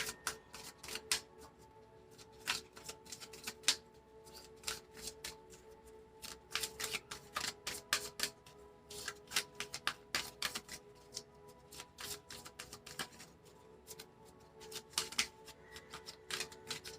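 Tarot cards shuffled by hand, a quick irregular run of crisp riffling flutters and taps in bursts, close and quiet with no talking.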